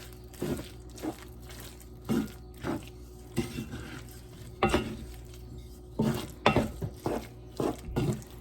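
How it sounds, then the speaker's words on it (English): Sausage being stirred into a dish with a utensil, irregular scraping and clinking strokes against the pan, fairly close with a low background hum, no talking. "Mix it up so the sausage is blended throughout."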